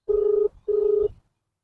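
Telephone keypad tones as a number is dialed, two steady beeps of roughly equal length separated by a brief gap, loud and clean with nothing else audible.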